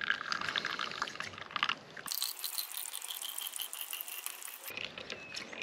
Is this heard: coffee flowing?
yes